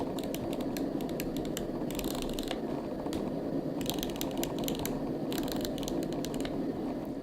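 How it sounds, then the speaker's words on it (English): Aperture ring on a Fujifilm 23mm F2 lens clicks through its f-stops in quick bursts of crisp, close detents, separated by short pauses over a quiet background. "The aperture ring on this lens does click, and you'll hear it."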